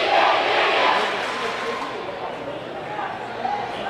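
Packed rink crowd at a high school boys hockey game between Canton and Medfield, a loud steady roar of many voices and cheering filling the arena.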